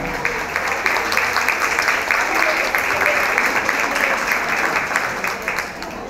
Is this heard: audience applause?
yes